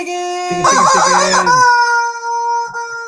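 A rooster crows once, loud and close, a long drawn-out cry over a sustained high electronic tone.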